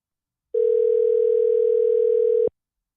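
A steady telephone dial tone, heard while a call is being placed, holds level and unbroken for about two seconds and then cuts off abruptly, loud and close with no talk over it.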